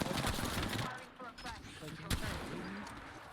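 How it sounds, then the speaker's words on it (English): Gunfire rattles through an Apex Legends ranked match: bursts of rapid shots and sharp cracks layered over game noise, with players talking over the action. "I'm trying to let you get the shots on him."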